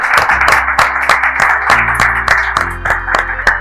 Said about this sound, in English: So big round of applause to entire Backforce team.